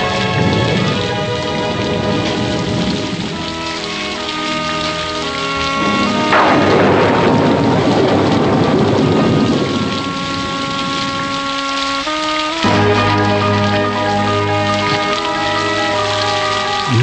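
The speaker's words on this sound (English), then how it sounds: "It's raining." Steady rain pours down at night in a forest in a Disney cartoon, with a low rumble of thunder, accompanied by sustained musical tones throughout.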